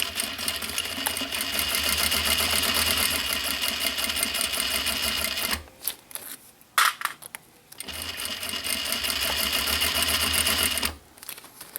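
Sewing machine stitching a seam on a recycled denim pouch, a fast steady mechanical whir in two long runs separated by a short pause with small clicks and handling noises, close and loud.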